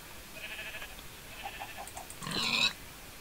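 A Minecraft sheep bleating in a few short, wavering bursts, with one louder, harsher bleat near the end, heard fairly close over a quiet game background.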